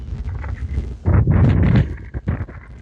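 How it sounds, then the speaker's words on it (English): Wind buffets a microphone outdoors beside a Tesla Model Y fitted with an aftermarket front bumper lip, a steady low rumble swelling into loud gusts midway, with brief sharper bursts near the end. "Pardon the wind if you hear a lot of wind."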